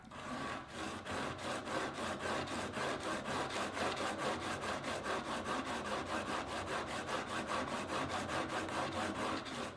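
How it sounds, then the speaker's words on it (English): Rhythmic back-and-forth strokes of a blade across an Ash & Co diamond sharpening stone, about three rasping scrapes per second, steady and close for the whole stretch with no talking. "Now as a general rule, I do 20 to 30 strokes on each grit."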